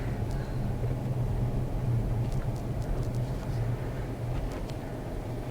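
A Tesla Model S rolls along a road, heard from inside as a steady low hum of tyre and road noise with faint ticks and rattles, no speech, evenly loud throughout.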